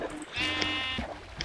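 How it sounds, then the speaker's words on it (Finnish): A sheep bleats once, a long wavering call close by, heard alone over faint outdoor background noise. "Tossa olisi niinku taas tuo lammas tossa."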